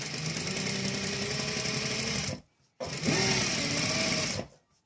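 A sewing machine stitches boot piping onto a neckline in two long, fast bursts of whirring needle clatter, the first about two seconds and the second just under two, with a brief pause between and faint talk barely present.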